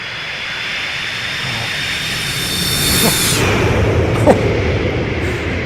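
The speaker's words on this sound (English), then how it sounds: "Listen to the engine thrust up here." A Boeing 727's jet engines build thrust in the X-Plane flight simulator, a loud, steady roar with hiss that swells further partway through, with a couple of brief clicks near the end.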